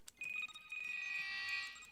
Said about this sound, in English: the beeping noise is the menu noise